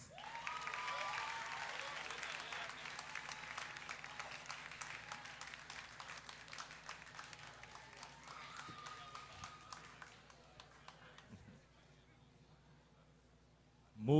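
Applause for graduating students at a secondary school graduation ceremony, sustained clapping from the audience that gradually thins and fades out over several seconds, with a brief voice at the very end.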